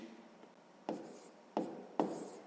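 Pen strokes scratch across paper while a math division is written down, three distinct rubbing strokes close by against quiet room tone.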